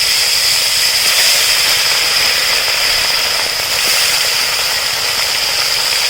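Pond-raised koi fish (climbing perch), rubbed with turmeric, going into very hot mustard oil in a kadai over a wood fire, giving a loud, steady, close sizzle that hisses evenly and without a break for about six seconds.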